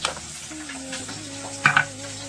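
Fish sizzling in a frying pan at close range, with a steady hiss and a couple of brief stirring or utensil clinks near the end.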